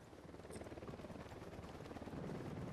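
A helicopter in the video game Ghost Recon Wildlands gives a steady, fast rotor thump with a low rumble, heard alone at moderate distance and slowly growing louder.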